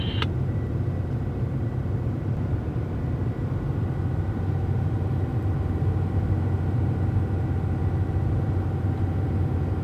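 A truck's diesel engine drones steadily and loudly from the cab as it climbs a hill in a lower gear, hauling combines near the Cheyenne River and Badlands, with a constant low rumble and no talking.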